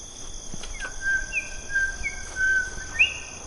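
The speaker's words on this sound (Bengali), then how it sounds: "কোন এক রাত চড়া পাখি মাথার উপর দিয়ে ডেকে গেল" A bird calls repeatedly with thin, clear whistled notes over a steady high insect drone, fairly close and distinct in a quiet night setting.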